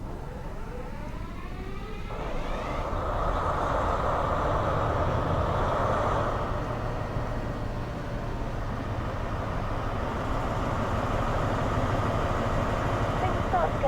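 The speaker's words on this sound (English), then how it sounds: "hearing the engine revs build and starting to feel the power this powerful locomotive holds" An HST diesel locomotive in Train Sim World 2 starts up, its engine rumble rising into a steady throbbing rev with a whining tone near and loud, while a voice talks over it.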